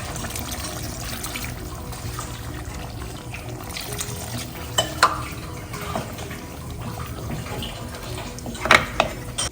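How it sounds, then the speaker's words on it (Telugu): About two cups of water pour steadily into a pot of mutton pulusu for several seconds, a continuous splashing gush, with a few light clinks of utensils near the end. "సో ఒక 2 కప్పులు వాటర్ పోసేస్తాను."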